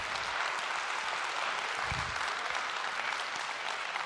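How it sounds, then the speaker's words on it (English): An audience at the Poco F6 series launch event breaks into steady, sustained applause, a dense wash of clapping from a large crowd, with a brief low thump partway through. "if you can all just give one last round of applause to our team back there and our team back in HQ"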